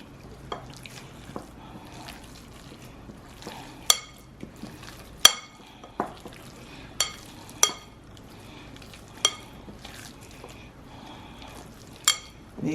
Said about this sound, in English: you take the meatballs and you mix all of this up. Best way to do it is by hand.